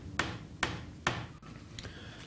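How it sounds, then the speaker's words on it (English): Three sharp, evenly spaced hammer blows drive pre-glued dowels into a wooden workbench frame, followed by a softer knock and a faint scrape, close and clear with no talking. "hammer in the pre-glued dowels"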